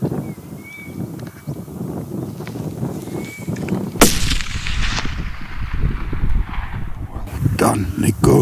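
A single loud rifle shot rings out at about the four-second mark during a fallow deer hunt in the northeastern mountains, cracking sharply and then echoing away, with quiet outdoor ambience and faint talk around it.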